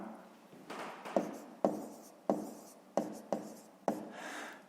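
Pen writing out a fifth-grade math solution on paper, a series of six or so sharp strokes and taps in an uneven rhythm, close and fairly quiet with soft scratching between them.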